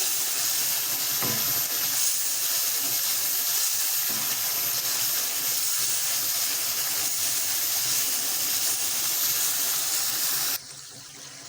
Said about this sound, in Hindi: अभी जी तेज़ आंच पे इसकी अच्छे से हो रही है भुनाई